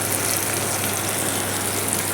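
Ground mustard and poppy seed paste goes into hot frying oil for a Bengali fish dish, a steady loud sizzle that crackles and hisses evenly with no pauses and no voices.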